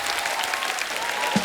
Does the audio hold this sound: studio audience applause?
yes